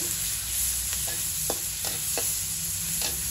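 Garlic and onion sauté in a hot pan with a constant sizzle, while a utensil scrapes and stirs the pan in several short, separate strokes. No one speaks.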